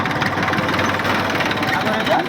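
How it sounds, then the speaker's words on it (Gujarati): Tractor engines run on a rural road-repair job where about ten tractors fill a track before sowing season, a steady loud mid-pitched chugging rumble close by, with a voice talking over it throughout. "10 ટ્રેક્ટર"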